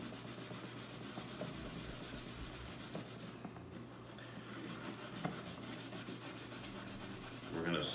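Hard scrubbing with a stainless steel scouring pad to scratch off black residue, a steady coarse rasping that holds at an even level throughout and swells slightly at the end, with no voices.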